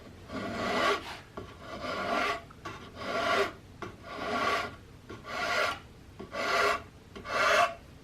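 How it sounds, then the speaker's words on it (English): A large flat file rasps across a wooden rifle stock forend in eight even strokes, close and steady, each push a dry scraping sweep with a short pause between, no talking. "with this large flat file like this, I'm able to really bring the height of this forend of the stock all the way back"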